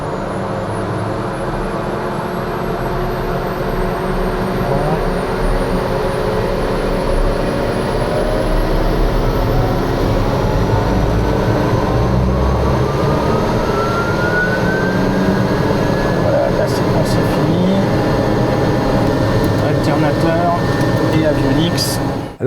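A private jet's engine spools up during start, its whine climbing steadily in pitch over a loud, constant roar heard from the cockpit.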